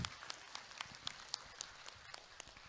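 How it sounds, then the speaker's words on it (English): An audience at a golden jubilee celebration gives scattered, moderately faint applause, with sharp individual claps popping out irregularly over a soft, steady patter of hands. "give a mighty applause"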